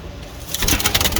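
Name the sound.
Barfai pigeon, a specially ordered pigeon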